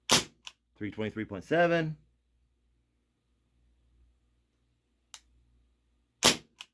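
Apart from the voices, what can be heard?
Ruger P345 airsoft pistol firing aluminum BBs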